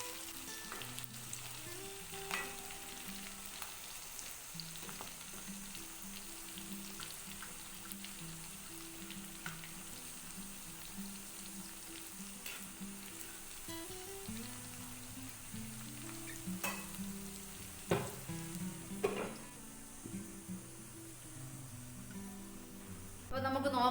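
Chicken pieces fry and sizzle in a pan for a Kerala-style tapioca and chicken biryani, a faint continuous crackle with occasional stirring clatter, while a person talks intermittently.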